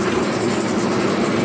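Rain pours down outside in a loud, dense, unbroken hiss that fills the whole moment, with no voices or other clear sounds standing out from the steady wash.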